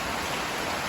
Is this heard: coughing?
no